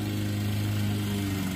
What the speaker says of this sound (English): we're going to be tag teaming the yard with his fancy smancy lawnmower.